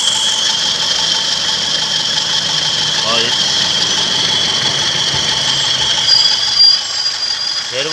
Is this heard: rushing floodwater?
no